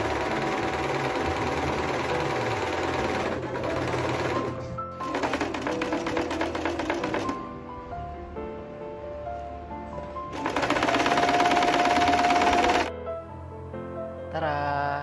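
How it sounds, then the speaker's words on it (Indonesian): A sewing machine stitches an old pashmina scarf in three long, steady bursts, with short pauses between them and soft music running underneath. "Jahit dari ujung ini sampai ke titik B."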